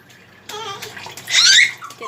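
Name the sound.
water running from an opened tap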